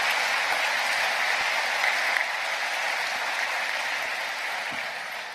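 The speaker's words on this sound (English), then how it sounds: "Big round of applause for all those that weren't here." Audience at a university alumni ceremony gives sustained applause, a dense, even roar of many hands clapping that holds for over five seconds and fades slightly at the end.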